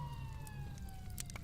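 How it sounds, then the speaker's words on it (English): Police-style sirens wail faintly in the distance, a long, slowly falling tone holding steady under a low hum, with a few soft clicks and rustles nearby. "Sirens were already echoing in the background."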